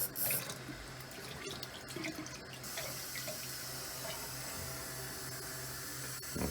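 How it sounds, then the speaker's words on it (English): Water from a kitchen tap runs steadily into a sink, a soft continuous hiss and splash at moderate distance, with a few clinks near the start and no talking. "So I'm going to keep the water running."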